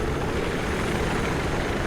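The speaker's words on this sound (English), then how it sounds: "it can be kind of difficult to fly a chopper and hit Alt F1 at the same time" A helicopter flies in Venice Unleashed, a Battlefield 3 game mod, its rotor and engine making a dense, constant roar that fills the whole moment without a break and with no voices.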